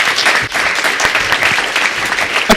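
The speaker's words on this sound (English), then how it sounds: "Huge round of applause." Audience applause at the close of a talk in a question-and-answer session with biosciences PhD students, steady dense clapping from a room of people sustained throughout, loud and close.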